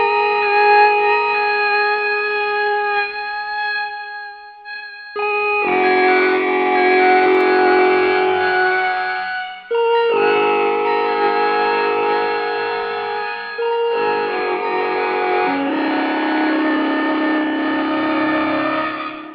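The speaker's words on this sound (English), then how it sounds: "maybe add some gen loss and mood, and just a simple reverb on the Mercury X" Electric guitar runs through a pedalboard with Strymon Iridium, Gen Loss, Mood and a simple Mercury X reverb, playing sustained, warbling chords in four washy phrases that ring out alone with long echoing tails.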